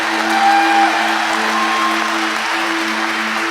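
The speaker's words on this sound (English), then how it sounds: "Let's give them a big round of applause." Audience applause at a graduation ceremony, a steady dense wash of clapping from a large crowd that fills the room at even loudness throughout, with a faint tonal hum beneath.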